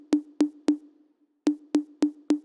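Electronic tom notes triggered by Logic Pro's note repeater in its default pattern: three evenly spaced punchy hits, a brief gap, then four more, each with a sharp attack and short decay, heard alone and fairly loud.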